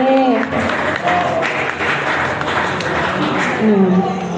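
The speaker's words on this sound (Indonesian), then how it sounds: "Mungkin beri tepuk tangannya dulu biar semangat ya." Applause from a crowd at a live halal bi halal gathering held in a cafe, dense clapping that runs throughout, with voices and some background sounds mixed in.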